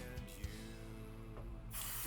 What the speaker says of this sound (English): there's our adhesive spray again